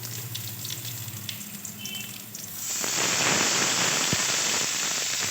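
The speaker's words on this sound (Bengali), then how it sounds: "তো বেগুনটা একটু ভাজা করে নিয়ে ওর মধ্যে দিয়ে দেবো শাক" Eggplant pieces drop into hot oil in a wok where onion was already frying. A loud, dense sizzle swells suddenly over a quieter background crackle and then holds steady and close.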